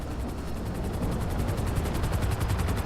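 Helicopter flying in the video game GTA V, its rotor chopping as a steady, fast, even pulse over a low engine rumble that stays loud and continuous with no talking.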